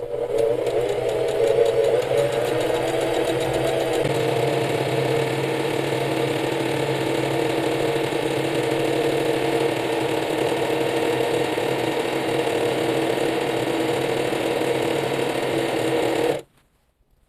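A sewing machine stitching embroidery on a souplast cover, with the pedal held at steady pressure, runs as a loud, even mechanical whir for about sixteen seconds before stopping abruptly.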